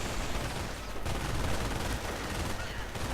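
Dense gunfire and grenade blasts in a WWII strategy video game, continuous crackling shots and bursts packed together with a loud impact near the middle.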